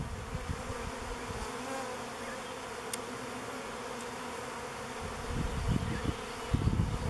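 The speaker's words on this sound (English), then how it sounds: "There are a lot of bees in the air." Honey bees buzz densely around an open nuc hive during an outdoor inspection, a continuous close swarm hum that swells slightly louder toward the end, with no talking.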